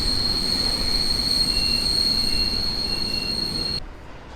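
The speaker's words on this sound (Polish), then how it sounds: "Pociąg osobowy do Błonia." A passenger train to Błonie at Warszawa Zachodnia station gives a loud, sustained high-pitched wheel squeal over rumbling rails, cutting off abruptly near the end.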